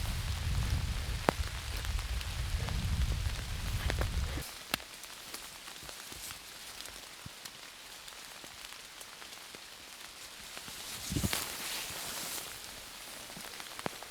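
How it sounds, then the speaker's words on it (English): Steady rain falling on a trail with scattered drops and taps, heavier low rumble at first then a softer, even patter with an occasional louder knock. "I'm pretty sure that was just the rain"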